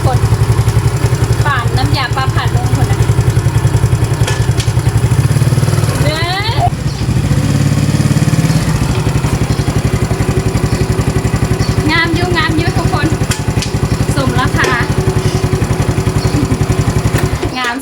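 A new motorcycle being ridden runs with a steady mid-pitched engine drone and rhythmic clatter, loud and close throughout, shifting slightly in pitch as it goes, with someone talking over it.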